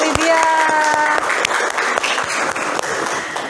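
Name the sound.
applause for a student, Lydia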